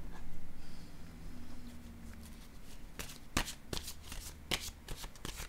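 Tarot cards are handled softly at first, then shuffled with a run of crisp, sharp riffles and snaps, quiet and close in an otherwise still room.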